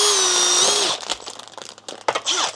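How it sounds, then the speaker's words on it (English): A Makita brushless power drill whirs steadily at close range for about a second with a high, even motor pitch, then cuts off into scattered handling clatter. "So this one is a Makita brushless motor. Fantastic drill, go through concretes like nothing."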